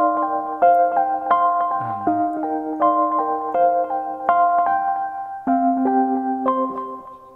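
A keyboard plays a dated, 90s-style digital piano patch. Chords and melody notes sound in a steady flow, clean and moderately loud, with no voices over them.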